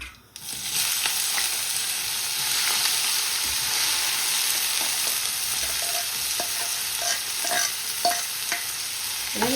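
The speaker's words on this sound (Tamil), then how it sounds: "நல்ல வடிவாக கொஞ்சம் ஒரு 5 நிமிஷம் நல்ல வடிவாக ஃப்ரை பண்ணி வளர்த்துட்டேன்" Carrots, beans and peas frying in a pan for Punjabi samosa filling, a loud steady sizzle with intermittent scraping stirs toward the end, no voices.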